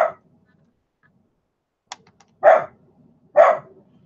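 A small dog gives two sharp, separate barks close by, spaced about a second apart, after a brief click and a clipped bark at the start, with quiet gaps between.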